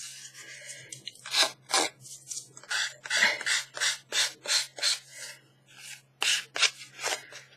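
An old, worn file rasps across the edge of a craft tag in a dozen short, irregular strokes, each a close, dry scraping burst separated by brief pauses, with nobody talking.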